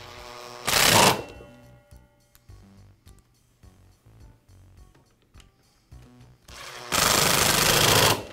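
Two bursts of power-driver whirring run a screw each into the plastic handle housing of a Makita miter saw. Small clicks and handling taps of the part being worked fall between them.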